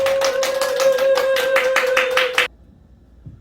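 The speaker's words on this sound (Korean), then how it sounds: "다 같이 박수로 환영해 주시기 바랍니다." A church congregation at a children's joint worship service claps steadily together to welcome a new pastor, dense rapid applause with a sustained tone underneath that cuts off abruptly, leaving near silence.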